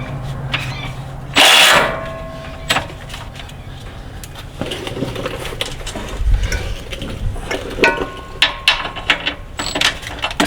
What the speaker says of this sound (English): We'll use a 18 millimeter wobble socket to reach over the top of the steering rack.